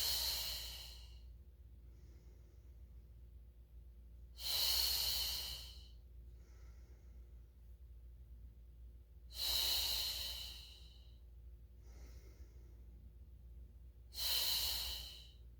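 Deep, loud breaths during a Pilates mat leg exercise come close to the mic, with three or four long airy exhales spaced about five seconds apart and quiet stillness in between.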